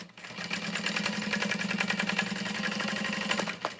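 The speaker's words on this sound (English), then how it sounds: "I'm gonna sew along this side here." A sewing machine runs steadily, stitching along the side of a custom leather bag at a long stitch length, with a close, even, rapid mechanical hum and needle chatter that stops near the end.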